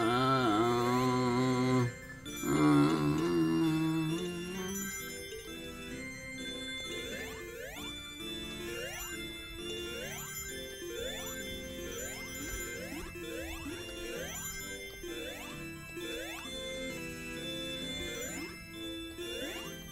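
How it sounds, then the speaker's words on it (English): Bright, repeating chimes ring through the background music of the Sonic Origins Plus video game, a steady jingling pattern layered over a busy synth track that plays on without pause. "I think the chimes in the back, the backdrop, backbeat of the song aren't helping"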